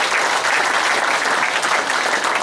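Applause from an audience at a family talk fills the moment, dense, steady clapping throughout.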